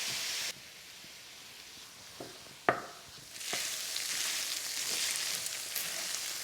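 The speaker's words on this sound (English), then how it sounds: "I'm just going to break up that meat, and then we want it to get some nice caramelisation and colour on the meat." Minced meat browning in a pan for Maltese imqarrun sauce, with a steady sizzle broken by a few scraping stirs and clacks before the frying swells louder and hisses continuously.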